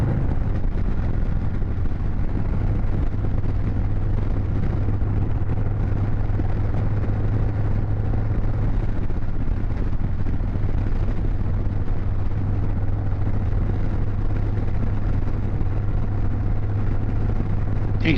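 Harley-Davidson motorcycle on the road, heard as a loud, continuous engine rumble mixed with rushing wind noise, steady and close throughout, with no talk.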